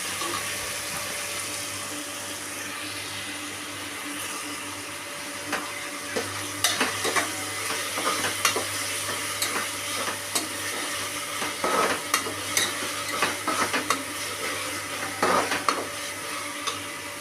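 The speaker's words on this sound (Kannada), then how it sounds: "ಮೆಂತ್ಯ ಸೊಪ್ಪು ಎಣ್ಣೆಯಲ್ಲಿ ಫ್ರೈ ಆಗಿದೆ" Fenugreek leaves fry in hot oil, a steady close sizzle joined by repeated scraping and clicking stirs that grow busier partway through.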